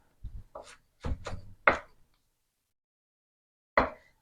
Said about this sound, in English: Chopping it up fairly fine, but it doesn't really have to be too precise.